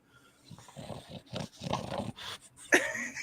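Dog breathing hard and panting nearby in a workshop, a run of rough, breathy bursts in an uneven rhythm, moderately loud and close, with no talk over it.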